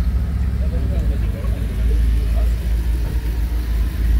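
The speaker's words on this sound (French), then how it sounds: "Petite arrivée Audi R8 V8." An Audi R8 V8 arrives at a casual car meet, its engine rumbling low and steady with slight revving, under people talking nearby.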